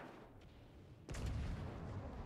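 A rear cannon fires during a naval battle in a video game, a sudden loud boom that cuts in after a quieter stretch and rolls on as a sustained low rumble.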